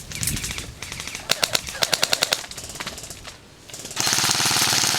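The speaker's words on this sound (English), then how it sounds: "As Lunoko opens up with the 11-volt light poly on his M4" An airsoft M4 rifle with an 11-volt LiPo battery fires rapid bursts of sharp clattering shots, close and loud, with short pauses between strings and outdoor noise.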